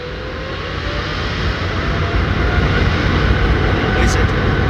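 A steady, loud drone from a jet airliner's engines at an airport, with a continuous broadband roar that builds slightly over several seconds; a person talks over it.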